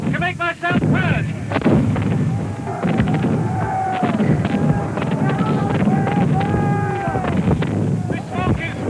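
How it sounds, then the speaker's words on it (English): Cannon fire booms repeatedly across a battlefield in a film of the Battle of Culloden, loud, close blasts in rapid succession over wind noise, with someone shouting through the cannonade. "Cumberland cannon! Cannonade all around me!"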